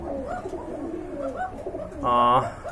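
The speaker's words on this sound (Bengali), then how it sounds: "এক জোড়া শাটিন কবুতর দেখতে পাচ্ছেন" A pair of satin pigeons coo softly in a loft, with low rolling coos throughout and a louder, clearer call near the end, while people talk nearby.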